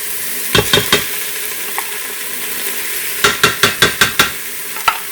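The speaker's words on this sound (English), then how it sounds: "I'm just going to kind of stir that around a little bit." Thick tomato paste stirred into browned onions and celery in a pot, a spoon scraping in quick clusters of three then five sharp strokes, close and fairly loud with quiet pauses between.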